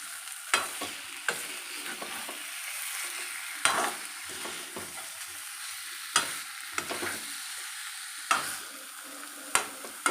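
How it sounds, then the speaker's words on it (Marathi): Stuffed bitter gourd with masala sizzles steadily in a pan, quietly frying as a utensil stirs it, with sharp scraping clinks every second or two and no talking. "आपला मसाला खाली लागू नये म्हणून आपल्याला थोडंसं परतून घ्यायचं आहे"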